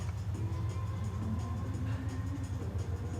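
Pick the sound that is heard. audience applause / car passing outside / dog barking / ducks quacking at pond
car passing outside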